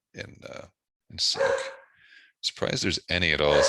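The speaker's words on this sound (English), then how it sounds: "apologies for the dog" A dog barks and yips close by in a home, several short sharp barks mixed in with someone talking over it.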